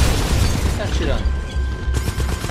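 Gunfire and explosive bursts in the sci-fi shooter Titanfall 2, played on Xbox One, with dense rattling shots and booms throughout, mixed with in-game radio voices and a player talking over the battle.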